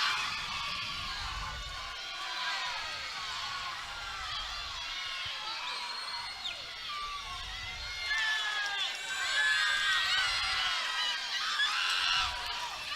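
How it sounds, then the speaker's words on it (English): A crowd at a high school swimming meet cheers and shouts continuously during a race, with whistles and excited voices rising and falling at a moderate distance while a commentator talks. "Crowd's getting into this one."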